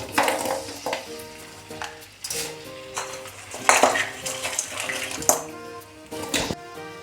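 A quarter kilo of jaggery stirred into a litre of hot coconut oil in a pan, with sizzling, scraping and clattering of the utensil against the pot and a steady hiss, no voices.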